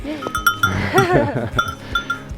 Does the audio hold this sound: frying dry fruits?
no